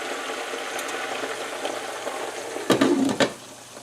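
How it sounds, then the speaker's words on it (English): Half a cup of water hits a hot pan of broccoli rabe, bursting into a sharp hiss and sizzle after a stretch of quieter frying, then fading quickly. "because we want it to steam, I'm going to put a half a cup of water"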